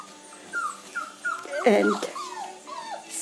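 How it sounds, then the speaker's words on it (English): Young Portuguese water dog puppies in a litter whimper and yip in a string of short, high, sliding cries, with one louder squealing burst in the middle, close up and mostly free of talk. "really sweet puppies"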